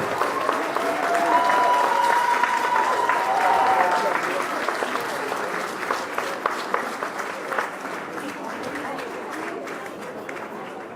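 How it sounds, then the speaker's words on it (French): Audience applause fills a stage show as the 2025 Super Chef cooking brigades are welcomed on, a broad sustained clapping that stays loud for several seconds, then thins slightly toward the end with some cheering voices mixed in. "Sous vos applaudissements, j'aimerais que l'on accueille les brigades 2025 de Super Chef sur la scène"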